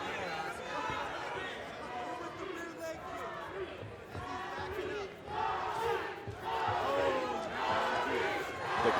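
Crowd at a Shamrock FC MMA bout roars and cheers behind a fighter, a loud continuous wash of voices swelling in waves, with commentators talking over it.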